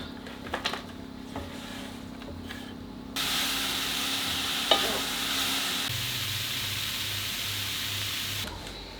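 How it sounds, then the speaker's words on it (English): Leeks frying in a pan, a steady close sizzle that swells louder partway through, with a few light utensil taps and a faint low hum beneath. "And then fry these off."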